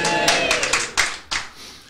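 A live audience bursts into applause, a dense burst of clapping that fades over about two seconds, with voices mixed in.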